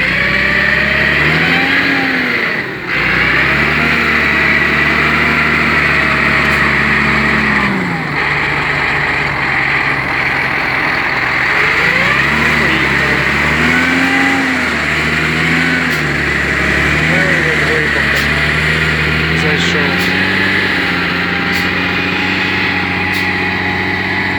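A tractor ploughing a field with a vibrating plough, its engine droning loudly and steadily with rising and falling revs as it pulls through the soil, close and continuous without speech.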